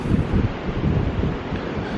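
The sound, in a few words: wind on the beach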